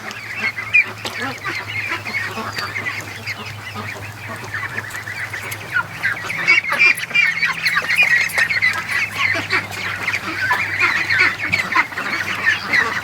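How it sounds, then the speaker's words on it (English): A group of Muscovy ducks makes repeated squawking, honking calls, close and loud over a steady low hum, growing busier and more frequent in the second half. "That's a really cool looking duck"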